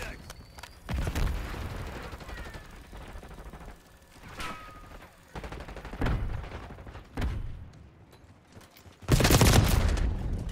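Gunfire in Call of Duty Black Ops 6 comes in several sharp bursts spread across the clip, the last one loud and sustained, with game effects and faint mechanical clicks between them.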